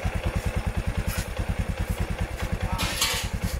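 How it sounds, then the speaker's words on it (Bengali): Close by, a repaired Bajaj Discover 100 motorcycle with new engine bearings idles in a steady, rapid single-cylinder putter, even and unbroken, with a little background clatter. "এখন কিন্তু ইঞ্জিনের সাউন্ড একদম সুন্দর।"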